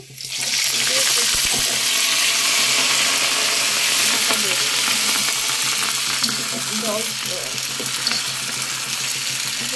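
Chopped gourd leaves frying in a pan, a loud continuous sizzle with occasional stirring scrapes and clinks, close up and steady throughout.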